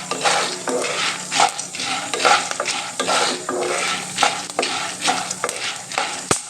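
Corn kernels fry in oil in a covered kadai for popcorn. A steady sizzle carries repeated soft pops and rattles against the metal lid, with no talking.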